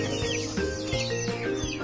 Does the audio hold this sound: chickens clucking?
yes